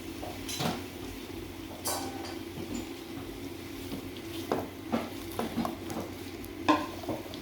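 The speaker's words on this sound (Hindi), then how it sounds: "इनको हम थोड़ा सा भून लेंगे, फ्राई कर लेंगे ऑयल में थोड़ा सा।" Radish and other vegetables frying in oil for a mixed pickle, a steady soft sizzle with occasional stirring clinks and scrapes of a utensil against the pan, close and moderately quiet.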